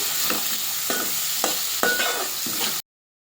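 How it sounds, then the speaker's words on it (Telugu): Chana dal frying and being stirred in a pan while making a ridge gourd dish, with a steady close sizzle broken by several sharp scraping stirs, then a sudden stop. "పెట్టిన శనగపప్పు అండి 1 కప్పు వేసి ఒక 2 నిమిషాల పాటు వేగనివ్వాలి"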